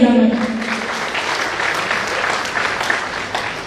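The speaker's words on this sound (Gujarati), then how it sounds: "એકવાર જોરદાર તાળી એમના માટે" An audience at a charitable trust felicitation ceremony in Surat breaks into loud, steady applause that fills the room after a brief voice at the start, holding evenly to the end.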